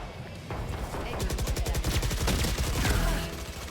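Rapid automatic gunfire in the tactical shooter Valorant, a dense, loud burst of rhythmic shots lasting several seconds, with a player's voice faintly mixed in.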